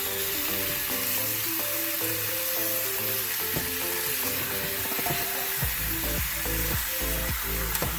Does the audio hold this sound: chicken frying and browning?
yes